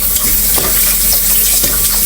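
Pork being washed under a running tap, a loud, steady rush of water with faint handling noises beneath it.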